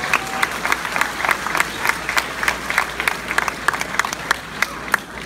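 A crowd applauds and cheers, dense clapping with whoops rising over it, steady and lively for several seconds.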